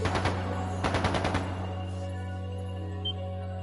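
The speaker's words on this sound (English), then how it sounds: "That sounded like gunfire." Rapid bursts of gunfire in the video game The Legend of Heroes: Trails of Cold Steel II, two quick volleys of shots early on over a steady low musical drone that continues alone afterward.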